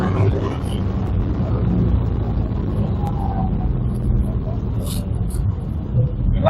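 Lancia Stratos replica engine heard from the cockpit while driving, a deep continuous low rumble with a voice talking over it.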